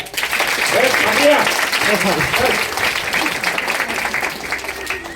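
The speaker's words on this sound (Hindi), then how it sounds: "अरे जोरदार तालियां।" Enthusiastic crowd applause at a religious gathering, loud and close, with voices talking and calling out over the clapping as it slowly tapers off.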